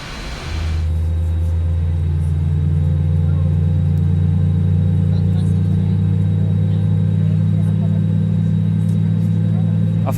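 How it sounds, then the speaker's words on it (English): Aircraft engine number 2 spooling up in Microsoft Flight Simulator, a steady loud low roar with a faint high whine rising in after about a second and holding constant, with no talk over it. "Let's get the engine number 2 started."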